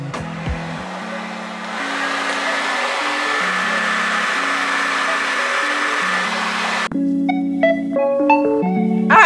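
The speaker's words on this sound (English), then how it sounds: "So we're going to diffuse this." A hair dryer fitted with a diffuser blows on a curly wig, a steady loud airy whoosh that stops suddenly, followed by music playing alone.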